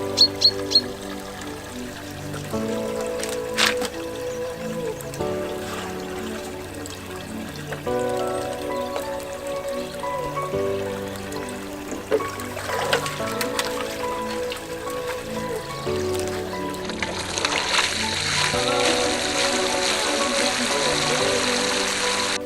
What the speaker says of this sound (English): what we've just done here is we've just given them a little bit of a water